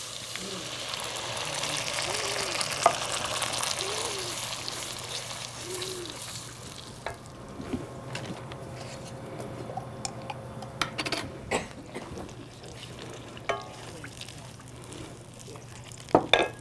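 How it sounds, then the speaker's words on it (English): Tomato puree sizzles and crackles in a frying pan at a senior center cooking demo, a steady hiss that fades into scattered pops and stirring scrapes, with a voice talking over the first half. "Now to this, I'm going to add some more tomato puree."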